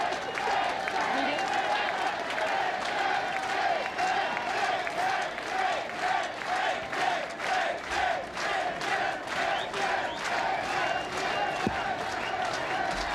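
A large crowd of supporters cheers and claps for Jean Chrétien on the 1993 Canadian election night, a dense, sustained roar with rhythmic chanting and clapping, loud and continuous, with a voice speaking over it at times.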